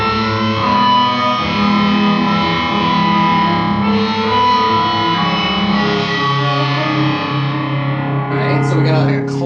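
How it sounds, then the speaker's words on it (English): Distorted guitar chords ring through a clangy, metallic filter effect pedal, harsh and gong-like with shifting overtones as the filter changes, played continuously and loud. "So we got like a clangy kind of metal sound."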